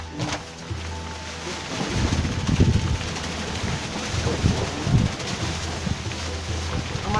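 Wind blows steadily across the slopes of Mount Cikuray, a continuous roaring rush with heavy buffeting against the microphone that swells in gusts throughout.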